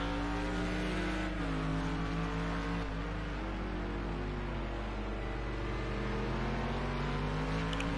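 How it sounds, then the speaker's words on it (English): A McLaren GT3 race car in a racing video game on the Long Beach street circuit, its engine droning steadily with shifting pitch as the driver feeds in throttle gently, loud and continuous throughout. "You can hear how patient he is on the throttle now"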